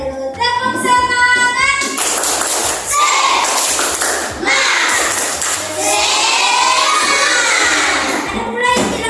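A school class does the 'tepuk semangat' spirit clap together: loud, rhythmic bursts of group clapping mixed with chanting voices, pausing briefly between rounds.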